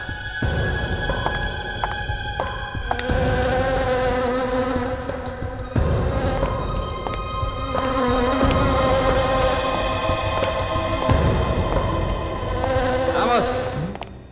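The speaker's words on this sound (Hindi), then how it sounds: "ये मधुमक्खी तो इसकी नाक पे जाके बैठ गई।" A honeybee buzzes loudly and continuously in a Hindi crime drama scene, its drone close and sustained under background music.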